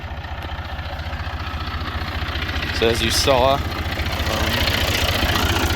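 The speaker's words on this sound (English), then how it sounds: "So this is our weed spray tractor." A weed spray tractor fitted with a boom sprayer idles steadily close by, its low engine rumble running throughout while someone talks over it.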